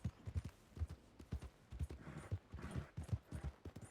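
Horse hooves in Red Dead Redemption 2 clip-clop in a quick, steady galloping rhythm, close and fairly quiet, with no talking.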